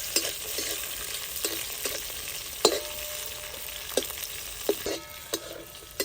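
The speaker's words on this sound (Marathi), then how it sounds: "मिरच्यांमध्ये काल्याचा तुकडा आणि लसूण पण टाकून भाजून घ्यायचं आहे" Green chillies, ginger and garlic roast in a pan over a wood-fired stove, a soft continuous sizzle broken by regular scraping stirs of a spatula, with no talking.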